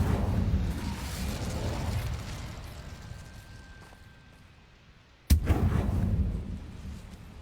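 Incendio fire spell cast in Hogwarts Legacy: a rushing, roaring burst of flame that fades over several seconds, followed by a sudden loud blast and another surging whoosh of fire.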